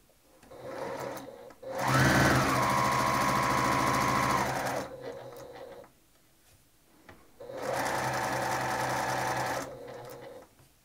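A sewing machine stitches a quarter-inch seam down a log cabin quilt block, running in two steady motor bursts of a few seconds each with a quiet pause between them. Nobody speaks.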